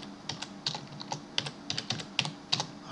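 Computer keyboard typing while programming code for reversing and sorting arrays: rapid, uneven keystrokes clatter up close in quick bursts, crisp and clear, with no speech.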